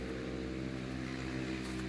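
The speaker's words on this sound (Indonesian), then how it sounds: "Itu ada motor knalpot brong berisik dari jauh kedengaran" Motorcycle with a loud open exhaust running in the distance near a garden with a pond, a steady low engine drone holding throughout.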